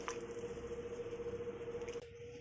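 Raw tamarind pulusu (pacchi pulusu) squished and mixed by hand in a bowl, a steady wet squelching and patter running on, close and fairly loud, with no talk.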